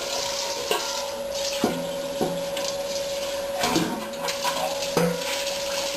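Hot water runs steadily into a big canning pot fitted with a jar cage, used for canning tomatoes, with a constant rushing hiss broken by several sharp metallic clanks from the pot and rack.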